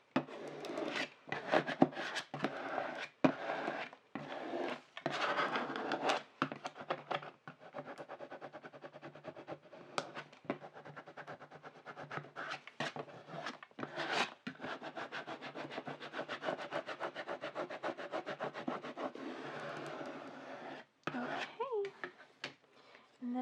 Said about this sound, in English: I'm going to go back with my scraper tool and just really get it down.